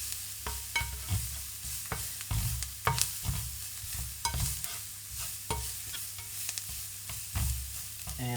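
Spices frying in oil in a pan, a continuous sizzle broken by repeated stirring clacks and scrapes at an uneven rhythm, close and moderately loud with no voices.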